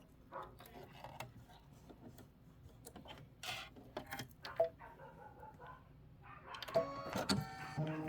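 An embroidery machine stitches a decorative stitch into fabric with quick, uneven mechanical rubbing and ticking, picking up in density and loudness toward the end. It is close and runs without speech.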